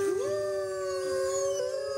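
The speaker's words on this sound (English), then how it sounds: "When the cubs howl, the wolves always respond." Wolf cubs howl in long, sustained, wavering tones that glide upward and hold steady, clear and fairly close, with a second howl layered faintly beneath.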